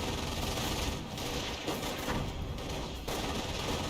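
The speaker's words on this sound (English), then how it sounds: "MG42 trying to set on up, make some good hits there. Mortar perhaps barraging the church right now." Dense battlefield gunfire from the WWII strategy game Company of Heroes, with MG42 machine-gun bursts and a mortar barrage on a church blending into a constant loud, crackling wash of shots and blasts.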